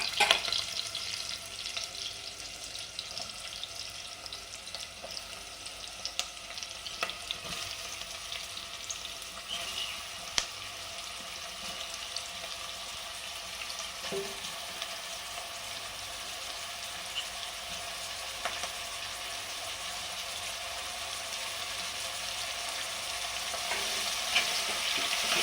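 Mushrooms and onions fry in a pan for a Nati-style mushroom sambar, a steady low sizzle running throughout with occasional stirring scrapes and clicks, fairly quiet with no talking.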